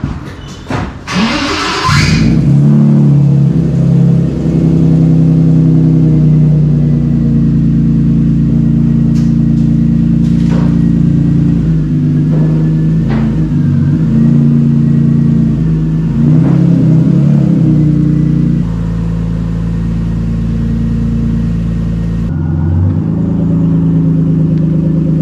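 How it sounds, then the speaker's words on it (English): A BMW E30 M3 drives up the road on its first run after a gearbox swap. The engine rumbles loud and close through the cabin, rising and falling as it revs and shifts through the gears. "I'm just going to take it up the road for fun of it."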